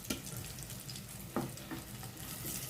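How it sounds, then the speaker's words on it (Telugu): Pieces of Konem fish frying in a pan give a steady low sizzle, with a few brief clatters as the pieces are moved about. "ఇలాగే చూపిస్తున్న విధంగా ఈ పీసెస్ని తీసేసుకొని మళ్ళీ ఇలాగే ఫ్రై చేసుకోవాలండి"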